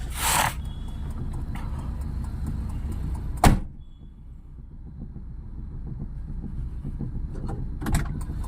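A car door unlatches with a sharp click and thunk, preceded by a brief lock or handle noise, then a low steady engine idle continues inside the parked car.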